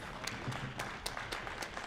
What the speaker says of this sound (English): And I won't be offended if you applaud for me.